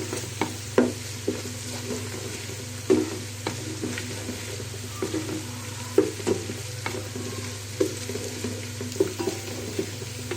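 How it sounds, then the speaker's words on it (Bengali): Sliced onions fry in oil in a pan for a chicken roast. A steady sizzle runs throughout, with frequent scraping and clinking of a spatula as they are stirred, close and clear with no talk. "তো আমি এই পেঁয়াজটাকে ভেজে নিচ্ছি"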